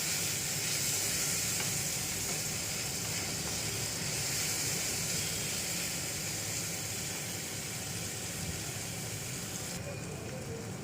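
Green chillies sizzle in hot oil in a pan while cooking poha pulao, a steady close hiss of frying that continues evenly throughout without talk.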